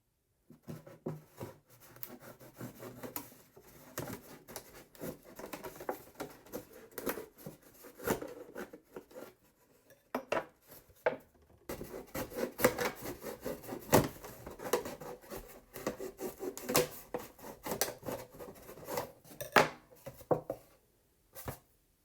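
A plastic milk jug being cut into a hinged winter sowing container, with continuous scraping, snipping cutting strokes close up, a short pause about halfway, then denser, busier cutting and no talking.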